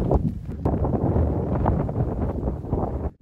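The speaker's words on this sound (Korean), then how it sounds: "바람 많이 부는 이곳" Strong wind buffets the microphone on a fenced mountain trail and cement forest road near wind turbines on Hambaeksan in Jeongseon, a loud continuous roar that drops away abruptly near the end.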